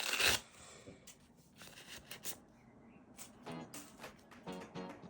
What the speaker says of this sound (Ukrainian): Тепер беремо наш пакет. відкриваємо.